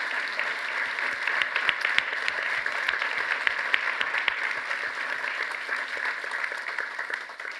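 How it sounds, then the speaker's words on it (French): A conference audience at an e-health event opening with the Minister of Health applauds, dense steady clapping from many hands filling the room for several seconds before tapering off at the end. "je pense qu'on peut l'applaudir également"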